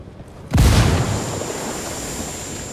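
A frag grenade goes off in Ghost Recon Wildlands during a raid on a cocaine stockpile, heard as one loud, deep blast after a quiet moment, followed by a long fading rumble.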